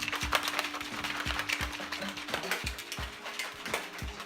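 A bottle cap is twisted open with a rapid run of close, crisp ratcheting clicks that ends in a snap.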